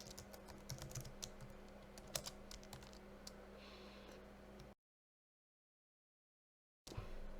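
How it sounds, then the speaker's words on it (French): Typing on a computer keyboard while entering text: quiet, irregular key clicks over a low hum for several seconds, then a stretch of silence before the sound briefly returns. "lorsque je clique sur un endroit de la page, un curseur apparaît, je peux taper mon texte"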